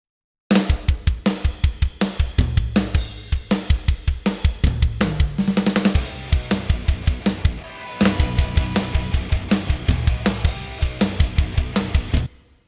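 A punchy drum kit groove from Logic Pro's Reverb Punch preset, with kick, snare and cymbals drenched in roomy reverb; steady rhythmic hits play alone, with a brief pause midway.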